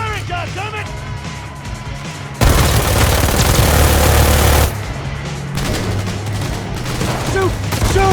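Video game gunfire from Cyberpunk 2077 rattles in rapid bursts with heavy booms, swelling to a dense, loud barrage for a couple of seconds in the middle, while shouting voices carry on over it.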